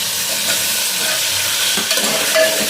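Tomatoes frying in a pan for tomato rice, a steady loud sizzle and hiss with light scraping as they are stirred, close and continuous with no voices.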